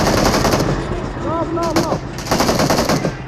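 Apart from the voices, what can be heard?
gunfire in BGMI video game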